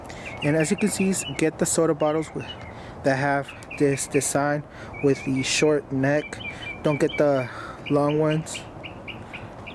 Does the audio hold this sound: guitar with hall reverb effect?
no